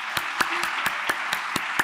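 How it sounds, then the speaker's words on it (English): A few hands clapping slowly at an evening talk event, sparse distinct claps spaced roughly a quarter second apart, moderately close and fairly quiet, with no voices over them. "Let's give them a big round of applause."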